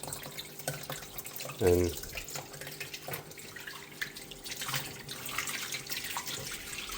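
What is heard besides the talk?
tap water running to rinse aquarium sand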